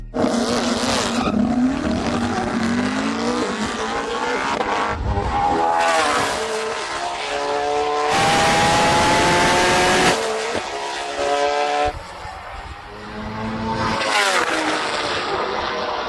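A Koenigsegg races a tuned Suzuki Hayabusa motorcycle in hot weather. Loud engines rev and accelerate through repeated rising gear pulls, with a roaring pass in the middle and a sharp burst near the end. No voices are heard.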